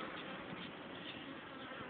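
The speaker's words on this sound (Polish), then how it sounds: "tak jak wiszą te pszczoły" A cluster of honey bees hanging together gives off a dense, continuous buzzing hum, faint and even throughout the short stretch, with no voices over it.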